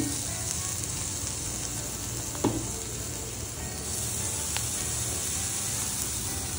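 Coconut, coriander, ginger and garlic paste is added to a pan for prawn curry and crackles loudly, with a continuous dense sizzle and a brief scrape of stirring partway through.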